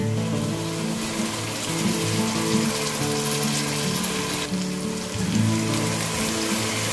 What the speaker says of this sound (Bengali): এর মধ্যে আমি দিয়ে দেব আদা রসুন আর কাঁচা লঙ্কার পেস্ট।